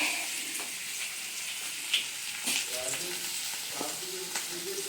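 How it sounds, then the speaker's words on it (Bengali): Potatoes fry in a pan in a home kitchen, a soft, steady sizzle with occasional stirring clicks and scrapes, fairly quiet and heard without talk. "আলু ভাজা চলছে"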